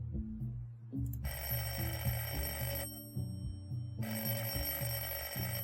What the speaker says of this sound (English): Just pick up the damn phone already.